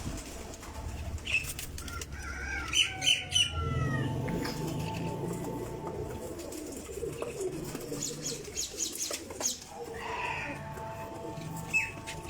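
A teddy pigeon coos in repeated low throaty phrases, close by, with a few faint wing flutters and scratchy rustles in a quiet loft.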